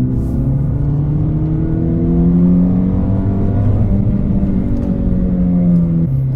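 A Renault Clio 3 RS engine revs hard while accelerating up a climb, a loud continuous in-car roar with rising harmonic pitch sweeps and a brief drop near the end as a gear changes.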